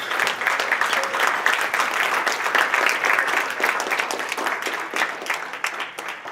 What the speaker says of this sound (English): give a round of applause for the finalists